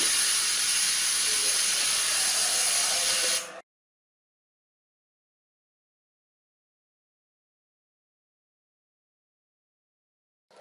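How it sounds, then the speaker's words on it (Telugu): A pressure cooker whistle releases steam while cooking soaked lentils, a loud, close, steady hiss lasting about three and a half seconds before cutting off into silence. "ఒక విజిల్ వచ్చింది కాబట్టి"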